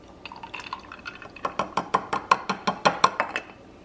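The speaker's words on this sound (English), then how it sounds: "pour about a cup of cold coffee over the ice" Cold coffee and half and half are poured over ice in a glass. Ice cubes clink and crack in a quick run of sharp, close taps that build and then trail off, with a faint trickle of liquid underneath.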